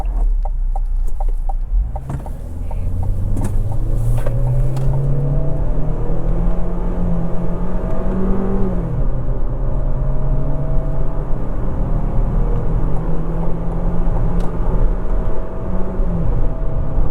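A 2025 Chevy Equinox RS AWD pulls onto a highway, its engine droning steadily and climbing in pitch with a shift partway through, heard from inside the cabin over constant road rumble.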